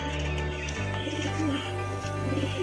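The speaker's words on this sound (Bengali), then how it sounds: "মুখিয়া চোখের পায়রা আছে" At a pigeon loft in Kolkata, a pigeon coos softly while being held in the hand. The low cooing repeats in a steady rhythm against faint background noise.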